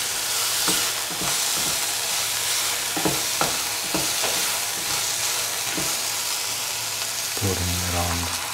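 Chicken soup ingredients sizzle steadily in a hot pot while a utensil scrapes and stirs in salt in irregular strokes, ending with a brief clunk.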